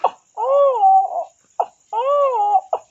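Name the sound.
man imitating a crying child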